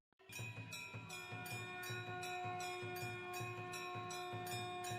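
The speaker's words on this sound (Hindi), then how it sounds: "तभी किसी मंदिर की घंटी उनको सुनाई देती है।" An old temple bell in the middle of a village rings in a quick, even series of about a dozen metallic strikes, each leaving a bright sustained ring that overlaps the next.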